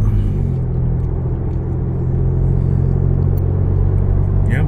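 Loud, continuous road traffic noise from cars passing, forming a steady, dense engine and tire rumble close by, with no talk.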